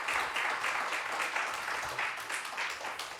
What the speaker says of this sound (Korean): 우리 박수 한번 해주시죠